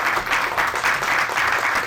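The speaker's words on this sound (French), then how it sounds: "à qui je vais demander de me rejoindre sur scène, sous vos applaudissements évidemment" Brief burst of audience applause at a French general assembly as a young intern is called onto the stage; steady, full clapping from a crowd with no speech over it.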